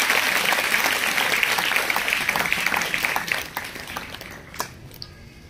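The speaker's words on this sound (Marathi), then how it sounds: "टाळ्या वाजत राहिल्या पाहिजे" A college audience applauds at an inauguration ceremony for a competitive exam guidance centre: full, continuous clapping that thins and fades toward the end, leaving a few last scattered claps.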